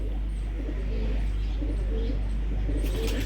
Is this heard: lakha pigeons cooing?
yes